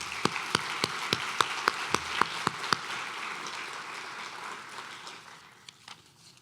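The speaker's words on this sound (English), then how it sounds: "So let's give them all a round of applause." A crowd applauds entrants at a lecture event, with a handful of sharp, evenly spaced claps up front over a soft, diffuse patter of clapping that fades toward the end.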